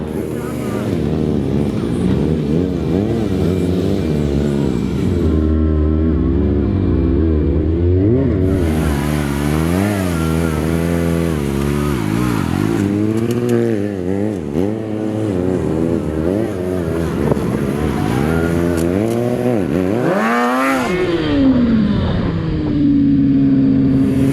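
Stunt motorcycles from a stunt team rev hard and ride close by, engine pitch rising and falling in repeated loud sweeps, with one long accelerating whine near the end.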